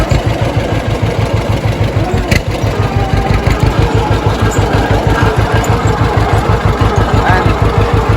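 A John Deere 60 tractor engine runs close by with a loud, steady, rapid low chugging pulse that keeps the same even rhythm throughout.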